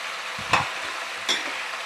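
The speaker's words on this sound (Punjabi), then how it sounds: "ਇਸ ਤਰ੍ਹਾਂ ਹੀ ਆਪਾਂ ਇਹਨੂੰ 2-4 ਮਿੰਟ ਦੇ ਲਈ ਆਪਾਂ ਤੇਲ ਦੇ ਵਿੱਚ ਇਹਨੂੰ ਰੋਸਟਡ ਕਰਾਂਗੇ" Vegetables roasting in oil in a pan, a soft steady sizzle with two brief stirring scrapes, close and alone.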